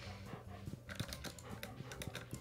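A pet dog pants nearby in steady quick breaths, faint and close, with soft clicking taps running alongside.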